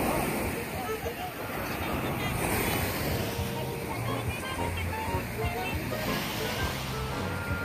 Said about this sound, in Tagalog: Diretso sa dagat.